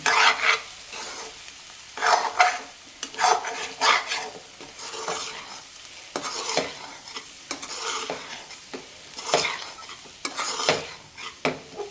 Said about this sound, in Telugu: ఇప్పుడైతే దీన్ని మంచిగా కలుపుకుందాం ఇంకా మంచి కలుపుకోవాలి